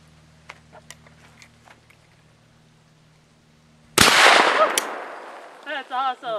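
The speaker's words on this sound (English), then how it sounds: "We're here with the Rossi 12 gauge single shot shotgun today" A Rossi 12 gauge single shot shotgun fires once outdoors, one loud close blast with a decaying tail after a quiet stretch. Brief voices follow.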